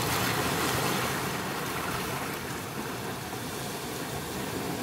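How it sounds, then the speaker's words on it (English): Steady ocean surf, a broad continuous wash of waves rolling without pause, fairly loud and close, with no voices. "to synchronize with the sounds of the ocean."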